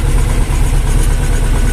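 A T-25 tractor engine runs steadily at a village, a loud, continuous low rumble that stays even throughout with no talk over it.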